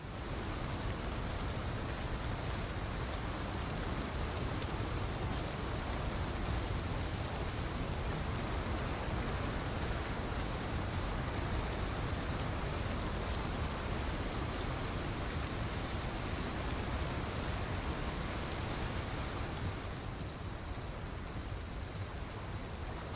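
Steady rain falls at night in the video game Path of Titans, a dense, even hiss that fills the whole stretch at constant loudness, with faint high insect-like chirping above it and no voices.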